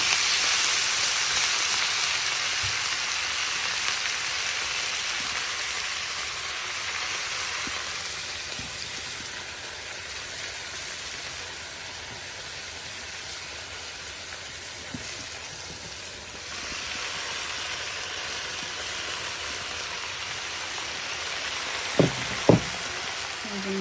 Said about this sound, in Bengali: এখন আমি এটাকে আস্তে আস্তে দিয়ে দিব শাকগুলা